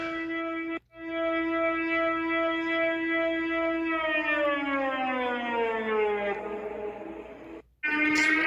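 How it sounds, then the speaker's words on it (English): A Danish air raid siren wails in a steady tone that slowly falls in pitch, with brief cutoffs near the start and end, loud and alone. "Just a Danish air raid siren."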